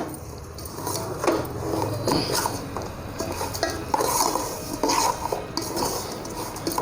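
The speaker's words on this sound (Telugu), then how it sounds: "బొంబాయి రవ్వ ఇట్లా వేయించుకోవాలి." Bombay semolina is stirred as it roasts in ghee in a pan, giving continuous scraping and gritty rustling with light metallic knocks of the spoon against the pan, close and moderately quiet.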